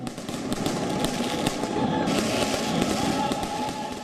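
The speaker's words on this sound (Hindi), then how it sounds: "लोग घरों से बाहर निकले और पटाखे छुड़ाकर इस फैसले पर खुशी जताई" Fireworks and firecrackers going off in celebration in eastern Ukraine's Donetsk and Luhansk: a dense, continuous crackle of pops and bangs at steady loudness, with a faint crowd murmur beneath.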